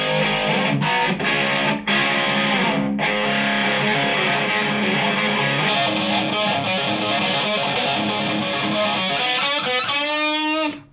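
Electric guitar played through a Joyo US Dream distortion pedal into an amp, a loud, continuous, heavily saturated stream of chords and riffs that ends with a ringing, fading note.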